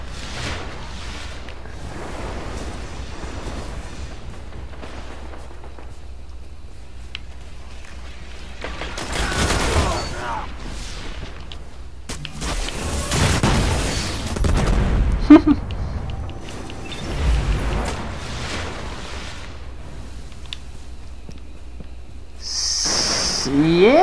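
Bursts of weapon fire from the Murmur legendary fusion rifle in Destiny gameplay crackle and boom at intervals, with quieter stretches between and a player talking over the action.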